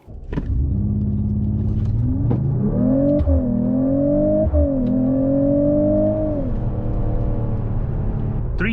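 Engine of a 2025 Mercedes-AMG CLE 53 coupe while driving, a close, steady droning rumble whose pitch rises as it accelerates, eases briefly, then holds, with a couple of light clunks along the way.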